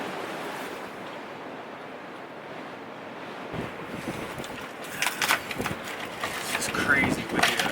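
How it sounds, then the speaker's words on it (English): Strong wind buffeting a microphone outdoors in the snow, a rough continuous rumble with sharper gusts and crackles building toward the end. "Crazy windy out here."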